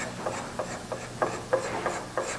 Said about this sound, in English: It's all done with hand scrapers.